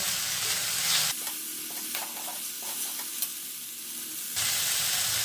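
Bay leaf, whole spices and sesame seeds crackle and sizzle in a black kadhai as they are stirred, a close, steady fry with soft scraping and light pops.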